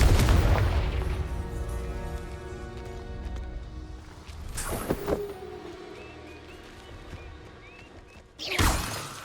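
Confringo explosive spell in Hogwarts Legacy, a loud booming blast with rumbling low end, followed later by another sharp burst, amid game ambience and a faint musical tone.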